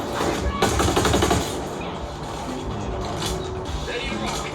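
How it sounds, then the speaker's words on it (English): Gunfire from a sniper engagement in Ghost Recon Breakpoint, the tactical shooter, with a loud burst of rapid shots early on and then a steady, dense battle din that continues to the end. "Sniper's about to shoot at us."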